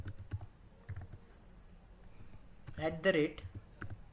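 Computer keyboard typing during a Selenium with Python coding session, brief clusters of key clicks scattered through the clip and bunching up near the end, heard under a voice talking.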